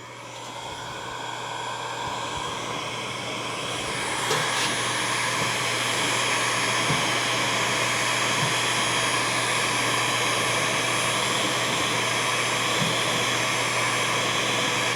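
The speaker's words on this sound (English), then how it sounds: "grab your heat gun again and start heating up again further down." Hot air roars continuously from a heat gun used to soften a vinyl strip on an aquarium lid, a steady close whooshing hum that grows slightly louder after a few seconds.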